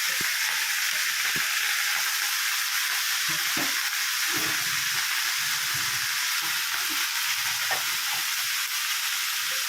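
Chopped onion, cauliflower, beans, chilli and carrot fry in a pan with a steady loud sizzle, broken by scattered knocks and scrapes from stirring.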